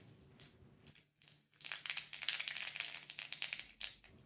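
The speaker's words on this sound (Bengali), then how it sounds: "ওই তেলে হাফ চা চামচ গোটা সর্ষে দিয়ে দিচ্ছি।" Whole mustard seeds dropped into hot rice bran oil: a quiet sizzle that swells into busy, crackling spatters and pops, close and continuous for several seconds.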